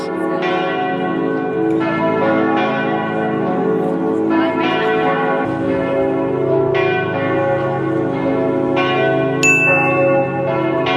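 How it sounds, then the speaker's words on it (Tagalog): Church bells in Nuremberg, Germany ring continuously and loudly, their overlapping strikes blending into a rich, ringing peal that carries through the whole stretch. "maririnig yung kampana sa taas"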